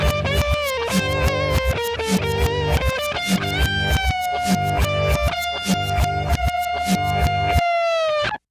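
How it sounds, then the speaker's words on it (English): A song played backwards: distorted guitar solo with reversed, swelling note attacks over a dense rhythmic band backing, loud and continuous, cutting off abruptly at the end. "So if you take the actual track and reverse it, it sounds like this."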